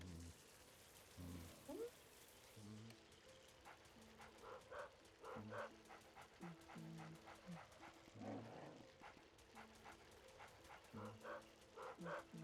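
A dog in the Luigi's Mansion video game barks repeatedly in short, faint bursts over a hissing, rain-like background.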